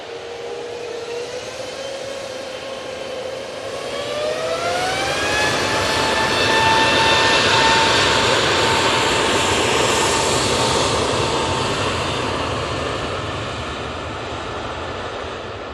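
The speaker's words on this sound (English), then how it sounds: "This A320neo is off to Lanzarote." An Airbus A320neo jet departing Manchester Airport for Lanzarote, its engine roar and rising whine swelling to a loud peak and holding as it climbs away, heard alone without talk.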